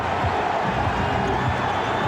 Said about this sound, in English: You can hear the crowd here, Bob, just chanting for some defense